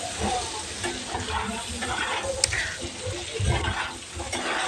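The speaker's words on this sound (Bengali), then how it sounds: "এবার আমি সব একসাথে মিক্স করে নিয়ে ভালো করে বেজে নেব" Eggplant tossed with salt and turmeric in a hot pan for an aloo-begun dish, giving a steady close sizzle and frying hiss with soft scraping stirs throughout.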